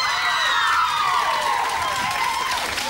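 A television studio audience claps and cheers loudly for a band on a 1997 music show, a dense continuous roar with shrill whoops from young fans running throughout.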